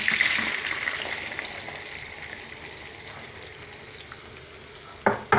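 Frying chicken in a pan sizzles loudly and steadily, fading a little, then tomatoes go in with a sudden sharp burst of sizzling at the end.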